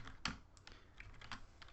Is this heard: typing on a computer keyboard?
yes